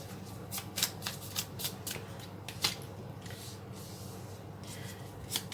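Tarot cards are shuffled for a reading in a quiet room, giving repeated crisp riffling bursts with short pauses in between, close and fairly soft.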